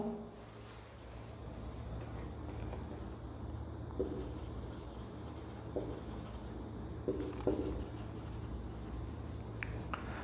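Chalk or marker scratching across a classroom board during a Class 10 science lesson on acids and bases, faint and intermittent over a steady low room hum, with no talk.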